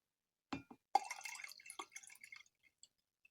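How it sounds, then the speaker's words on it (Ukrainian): A salt solution poured into a filtered solution, a faint trickle and a few small drips and splashes of liquid, quiet and brief. "Заливаю розчин солі."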